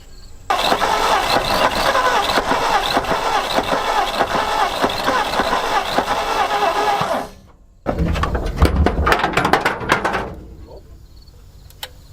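An old panel truck abandoned for about 40 years cranks hard and steadily for roughly seven seconds, drops briefly, then cranks again and catches with a rough, loud start before settling and fading.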